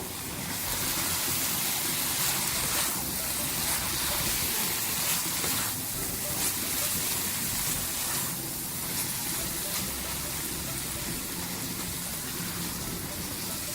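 Fried okra, half a kilo, stirred into a sizzling achari pickle-spice masala in a pan, giving a steady, dense hiss of frying with soft scraping throughout, close and continuous with no talk.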